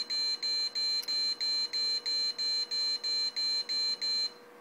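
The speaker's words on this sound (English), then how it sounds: "any kind of movement, and it sets it off" An Arduino-built PIR motion sensor room alarm sounds a loud, steady run of about a dozen identical electronic beeps in a regular rhythm, close by, with a faint background hum, ending abruptly.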